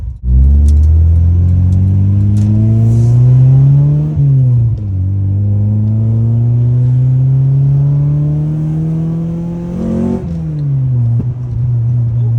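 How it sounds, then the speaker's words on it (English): A Honda Civic with a B20B engine drones and climbs through the gears, with sharp pops and crackles from the exhaust as the revs drop between shifts. "Backfire there."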